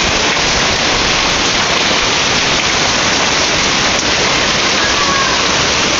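Steady, dense hiss of heavy spring rain pouring down in Moses Lake, loud and unbroken throughout with no voices.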